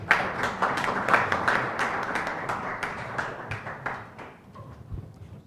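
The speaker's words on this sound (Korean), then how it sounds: "큰 박수 부탁드립니다" Audience applause at a seminar on SME employment policy, a dense patter of clapping that thins and fades over about five seconds, moderately loud.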